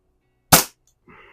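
A pellet gun fires a single sharp, close shot at an airgun show, a crisp crack that fades quickly, followed by a faint short rattle.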